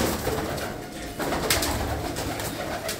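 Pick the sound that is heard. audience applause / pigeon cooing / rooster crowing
pigeon cooing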